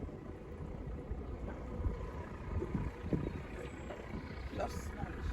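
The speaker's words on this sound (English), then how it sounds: "it's a bit windy" Low, rumbling wind buffeting the microphone on board a boat, steady and fairly faint throughout with a few gusty bumps.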